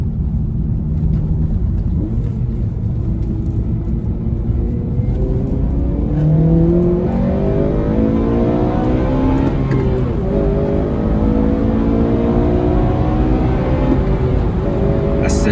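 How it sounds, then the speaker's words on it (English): A Honda Civic Type R FN2 engine revs up through its rev range into VTEC, a loud rising tonal wail with harmonics climbing and repeating over several pulls, close and sustained. "That noise of just Vtec, that when that second cam engages, that just does not get old at all."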